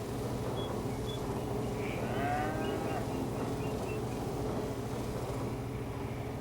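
Cattle on a farm low over a steady background hum; a few faint, drawn-out moos rise and fall in the distance, with no talking.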